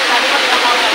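Steady broadband rush of water pouring down Lusong Falls, a continuous, fairly loud, even roar with no breaks, sounding close and alone.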